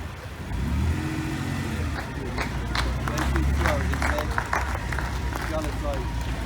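Ferrari Dino in Giallo Fly yellow driving past at a concours d'elegance, its engine a steady near drone under crowd chatter and scattered applause throughout.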